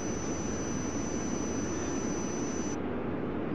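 A Lufthansa jet taking off at Frankfurt airport in an air-traffic-control game: a loud, steady, close roar of engine noise with a thin high whine on top, holding unbroken for several seconds with no talk.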